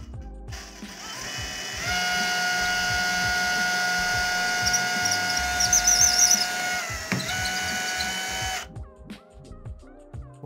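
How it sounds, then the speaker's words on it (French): Drill running at slow speed without hammer action, boring into crumbly aerated concrete with an old metal bit, a steady whirring drone with a grinding texture for several seconds before it stops, followed by faint handling clicks. "Vous percez à vitesse lente avec un vieux forêt métal et ça se perce très bien."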